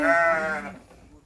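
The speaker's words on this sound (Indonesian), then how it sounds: "Itu kambing, itu dombanya lucu-lucu, ya, teman-teman." Sheep and goats in a pen let out one clear, close bleat that fades out quickly, with nothing else heard around it.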